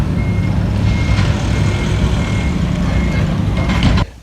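Trucks reversing at a busy outdoor event, a steady rumble of heavy engines with faint repeating reversing beeps over the top, continuous until an abrupt cutoff.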